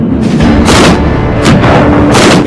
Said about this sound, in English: The larger the gun, the larger the shell, the bigger the bang.